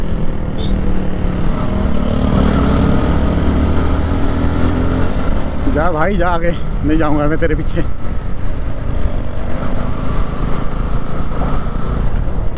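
Bajaj NS200 BS4 motorcycle riding along a road, its engine and wind noise forming a loud, steady rumble throughout, with someone talking over it in the middle.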